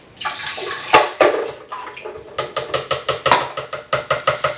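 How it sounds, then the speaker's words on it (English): Liquid for a slushie splashes and glugs as it is poured into a Vitamix high-speed blender, turning into a rapid series of rhythmic sloshing pulses nearby. "And then you pour it into the Vitamix, or high-speed blender, should I say."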